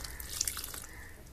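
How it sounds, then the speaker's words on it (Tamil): Rice-washing water pours into a simmering Tamil goat intestine curry, a steady close splashing trickle running throughout with small bright drips and bubbling on top. "இப்போ அரிசி கழிஞ்ச கழனி தண்ணி கொஞ்சம் ஊற்றிக்கலாம்."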